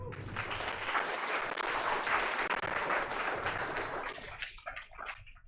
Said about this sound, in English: Right, round of applause, please.